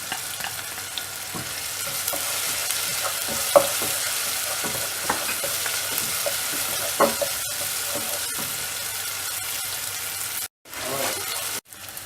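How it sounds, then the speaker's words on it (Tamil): Tomatoes sauté in a pan with crushed ginger and garlic for a radish egg fry, giving a steady close sizzle with scattered stirring scrapes and clinks. Two brief dropouts near the end interrupt the frying. "தக்காளி வதங்கின உடனே இடித்து வச்சுருக்க இஞ்சி பூண்டு இதில் ஆட் பண்ணிடலாம்."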